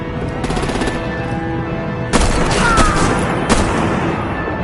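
Gunfire in Batman: The Enemy Within: a steady, loud rattle of automatic weapons with a few heavier cracks on top, alone and without talk.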